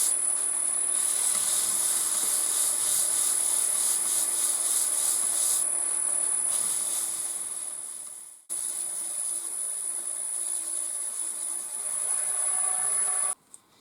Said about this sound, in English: Okay, now for some abrasive paste. Starting off slow.